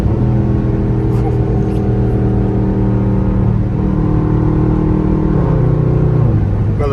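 A Dodge Durango engine drones loud and close in traffic, rising in pitch after a downshift with steady harmonic whine throughout and a shift in tone near the end.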